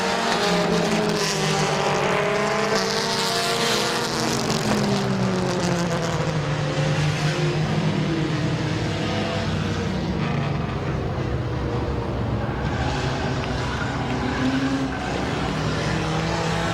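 Compact race cars at Midvale Speedway, engines roaring continuously with rising and falling pitch as cars pass close by, loud and sustained across the whole stretch.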